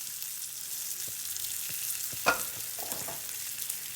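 Apple slices frying in a pan, a soft steady sizzle with a few light stirring scrapes and one sharper clack partway through, close and quiet.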